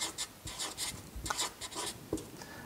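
Hand writing polygon names with a pen or marker, a series of short scratchy strokes in bursts with small pauses between words, close and fairly quiet, with no talking.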